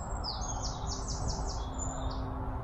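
Several birds chirp and trill outdoors in quick repeated phrases, moderately near, over a steady low background hum with no other activity.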